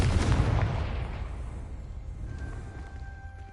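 A Confringo fire spell blasts in Hogwarts Legacy, a loud booming burst at the start that rolls off into a fading rumble, with faint magical tones ringing afterward.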